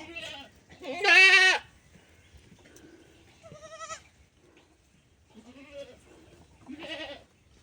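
A horned goat and her newborn kid bleat in a handful of separate calls, one loud long bleat followed by softer, shorter ones spaced out over several seconds at close range.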